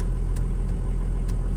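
Steady, smooth engine rumble of an idling van, low and continuous with no breaks, close by and alone without voices.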